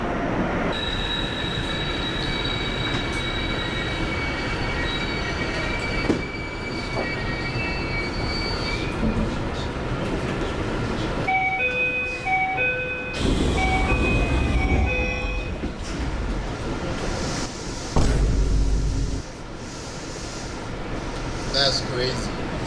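Train ride in Japan, continuous rolling rumble of a railcar with high wheel squeals and tonal whines rising and fading, a brief louder burst midway, with faint voices in the carriage.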